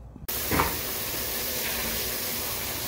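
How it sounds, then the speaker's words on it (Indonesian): Vegetables being stir-fried on a stove for sayur lodeh with young jackfruit, giving a steady loud hiss of frying throughout, with a brief louder burst near the start and no talking. "Oh ini lagi tumis teman-teman"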